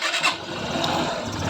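A Honda Shine motorcycle engine catches and settles into a steady mid-pitched idle after a half-engine fitting repair, heard close and alone for a short moment.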